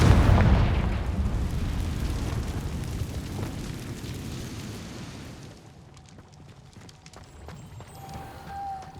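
A Confringo blasting spell in Hogwarts Legacy sets off a loud, close explosion with a booming rumble that fades over several seconds into quieter crackles and faint game sounds.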